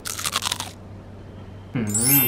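A bite into a David's Homemade soft chocolate cookie with oatmeal gives a short burst of close, crisp crunching, then quiet before a voice starts talking.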